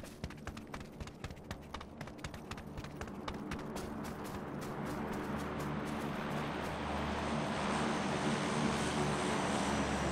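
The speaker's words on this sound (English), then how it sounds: "The plane? Plane." An airplane passes overhead, its roar swelling from faint to a loud, broad wash over several seconds, with rapid clicking or tapping sounds at the start that fade as the engine noise grows.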